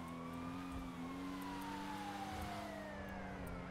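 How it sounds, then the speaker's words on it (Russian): An ambulance siren in GTA 5 with the Lively World traffic mod wails steadily with a slowly falling pitch, fairly faint, over a low road and engine rumble. "это замененная скорая помощь, по-моему"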